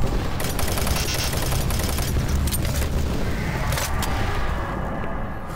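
Rapid, continuous submachine gun fire from Doom 3: Resurrection of Evil rattles loud and close for several seconds, a dense stream of shots with brief gaps, easing slightly near the end.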